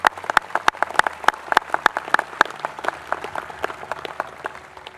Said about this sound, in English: if you would join me in applause for all those Marines and police officers